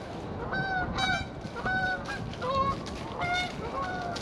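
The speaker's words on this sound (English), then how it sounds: "Geese." Geese honk repeatedly in a clear, loud flock chorus, overlapping calls coming in bursts of two or three nasal honks at a time with steady background noise beneath.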